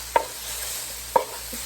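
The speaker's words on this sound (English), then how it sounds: "Okay, I'm gonna give it a stir." Beef sizzling in a Ninja Speedi while a utensil stirs it, with two sharp scraping clacks about a second apart over a steady hiss of frying.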